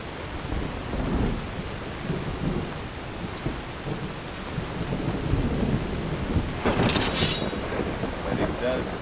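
Constant rainfall and rolling thunder in Skyrim fill the scene, with a sharp bright crack breaking through around the two-thirds mark before the downpour continues.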